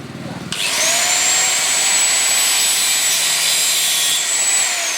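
A Hillgrove cutting machine cuts MDF board, starting abruptly into a loud, sustained high-pitched whine that holds steady at close range, with no talk over it.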